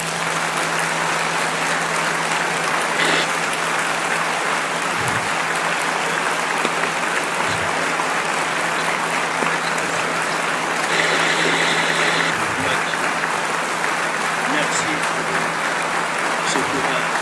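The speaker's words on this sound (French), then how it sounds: "Regardez comment les gens ont applaudi à la fin." Audience applause at the end of a speech by Cardinal Sarah, a steady, dense wash of clapping that runs the whole stretch with voices mixed in and a constant low hum beneath.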